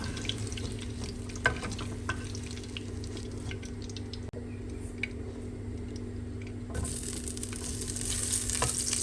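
Onion frying in oil in a pan, cooked with okra and aubergine, keeps up a continuous close sizzle with small ticks and scrapes of stirring, growing a little louder near the end; no one speaks.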